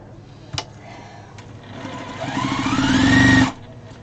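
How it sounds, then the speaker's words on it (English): A sewing machine stitches fabric scraps together, starting after a couple of clicks and whirring steadily up to a fast, loud run before stopping abruptly, with no talk. "let's sew to this one now"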